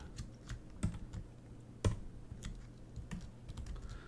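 Scattered keyboard key presses and mouse-style clicks at a computer during 3D sculpting work, a few sharper snaps among softer taps spread irregularly over several seconds, fairly quiet and with no speech.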